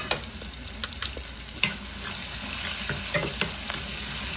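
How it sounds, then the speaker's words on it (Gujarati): Sliced onion fries with cumin, ajwain and asafoetida, giving a steady, close sizzle with soft crackles and occasional stirring scrapes throughout. "અજમો નાખ્યા પછી આપણે હિંગ નાખીશું અને હિંગ નાખ્યા પછી આપણે આ ડુંગળી નાખી દઈશું"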